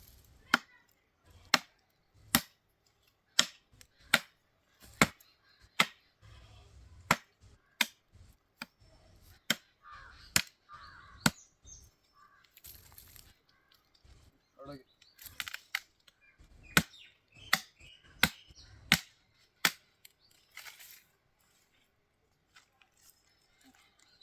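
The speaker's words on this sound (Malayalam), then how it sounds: "നമുക്ക് ആ മെയിൻ തണ്ടെല്ലാം ഒന്ന് നീളം കുറച്ചെടുക്കാം" Cassava (tapioca) stems being cut shorter during a harvest: about a dozen sharp, crisp chopping strikes land at a fairly steady pace, with softer rustling and handling noises between them, heard close.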